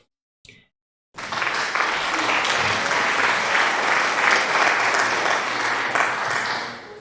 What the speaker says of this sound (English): Thank you for the applause, sweetheart.